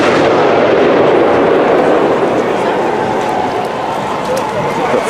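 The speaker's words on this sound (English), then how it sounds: "It's like, how many concussion grenades do they have? Or are those tear gas canisters exploding?" Concussion grenades or tear gas canisters go off during a Seattle street protest, with repeated booms and bangs spread across a dense, noisy crowd roar.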